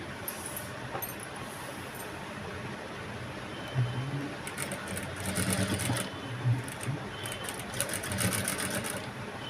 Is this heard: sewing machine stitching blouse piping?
yes